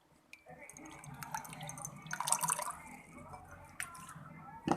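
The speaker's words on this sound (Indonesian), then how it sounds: "Pertama kita masukkan 1/3 air ke dalam gelas" Water pours and trickles into a glass, filling it about a third, a short liquid splash and gurgle close by, fairly quiet.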